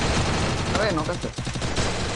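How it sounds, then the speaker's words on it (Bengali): Sniper rifle shots in the Free Fire video game, a dense run of sharp bursts, loud and close, with a player's voice talking over part of it. "স্নাইপার দিয়ে মারতেছে কে?"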